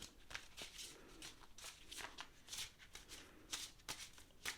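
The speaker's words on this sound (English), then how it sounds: "So I'm going to go ahead and shuffle again." Soft, crisp riffling of oracle cards being shuffled repeatedly, quick papery bursts in an uneven rhythm, close and quiet.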